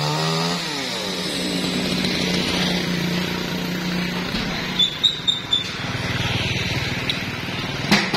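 A chainsaw cuts through a trâm (Java plum) tree near a house, its engine droning steadily close by with a few sharp revs and bogs toward the end as the chain bites the wood.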